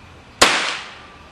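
A single sharp blast from an oxygen-and-acetylene powered BB gun, a loud close crack followed by a hissing, fading tail, with no voices.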